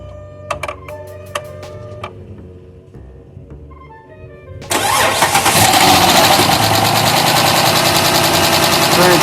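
Chrysler 300 engine, just refitted with a new timing belt and water pump, cranks and bursts into a loud, steady running roar after a few seconds of quiet clicks and chimes.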